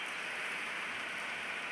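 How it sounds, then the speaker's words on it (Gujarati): Rain falls gently on plants and a vine trellis in a home garden, making a faint, soft, continuous patter and hiss with no voices. "વરસાદ લાગે છે એને."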